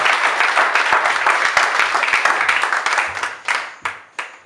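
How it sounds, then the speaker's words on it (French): A church congregation claps strongly, a dense and loud burst of applause that rings out steadily, then thins to a few scattered, fading claps at the end. "Let's alors. clap strongly."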